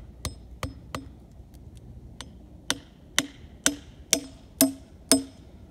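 Nails being driven into wooden stakes outdoors with a hammer, about a dozen sharp ringing strikes, sparse at first and then a steady faster run of louder blows near the end.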